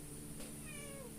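A cat gives one short, faint, wavering meow over a noisy background hum.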